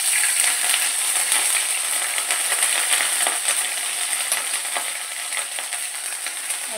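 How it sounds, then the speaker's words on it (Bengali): Whole cumin seeds and Bengali five-spice tempering sizzle in hot oil for spinach dal, a steady dense crackle of frying with small popping ticks, close and alone without any voice. "এবার আমি দিয়ে দিব অল্প একটু জিরে, 5 ফোড়ন আর একটু জিরে দিয়ে দিব"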